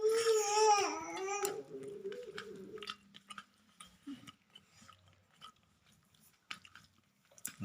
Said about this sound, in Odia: ୟାକୁ ବର୍ତ୍ତମାନ ଖିଆ ଚାଲିଛି ଆମର।